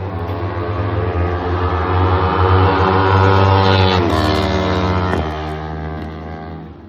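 Yamaha R3 motorcycle riding past on a Kuala Lumpur street, a loud revving engine that builds, peaks close by, then shifts gears twice and fades as it pulls away.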